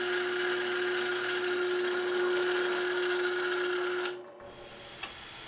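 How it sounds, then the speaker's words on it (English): Power drill boring into a wooden block for a tic-tac-toe woodworking project, a steady loud whine running alone for about four seconds before cutting off, followed by a faint click. "So, and let's go ahead and drill the other side."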